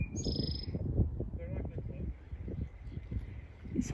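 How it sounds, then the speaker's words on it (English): Birds chirp and call faintly in the background on an island with free-roaming horses on Maryland's Eastern Shore, under steady low rumble and some nearby voices. "Listen to the birds."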